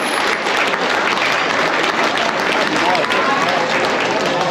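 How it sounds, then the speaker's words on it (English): Steady, dense applause from a crowd at a county fair livestock market judging, clapping for the kids in the show ring, continuous and fairly loud throughout with no break. "give a round of applause for the kids that have made it into this point"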